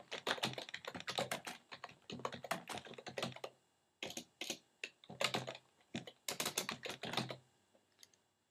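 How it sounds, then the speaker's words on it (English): Someone types on a computer keyboard in quick bursts of clicking keystrokes, close and clear, with short pauses between runs and no talking. "I could type a little thing in here"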